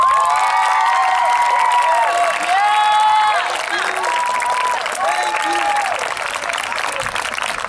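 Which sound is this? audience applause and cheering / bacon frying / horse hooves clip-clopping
audience applause and cheering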